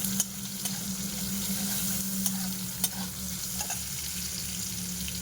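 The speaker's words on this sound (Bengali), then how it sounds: "ফোড়নটা হয়ে গেছে, এর মধ্যে আমি একটা বড় সাইজের পেঁয়াজ দিয়ে দিলাম" A large onion fries in oil already tempered with cumin and two green chilies, giving a constant close sizzle and crackle with occasional stirring scrapes and sharp pops, with no voice.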